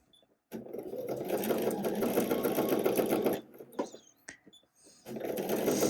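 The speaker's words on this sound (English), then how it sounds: "now we're going to just edge stitch" A sewing machine edge stitches a cashmere-style dress seam, running in a steady close whir for about three seconds, pausing with a few small clicks, then starting up again.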